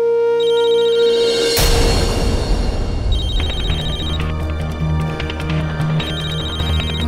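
A mobile phone rings with a repeating electronic ringtone in bursts, loud and close. A sharp hit cuts in early, and a low droning background sits underneath.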